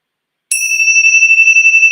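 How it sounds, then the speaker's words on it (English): A single bright Tibetan cymbal strike rings out after a short silence, the clear metallic tone sustaining and gently pulsing as it decays, close and loud with no talking. "From our beautiful Tibetan symbols"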